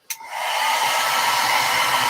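A hair dryer clicks on and runs at a steady, loud whoosh up close, its airy roar holding constant.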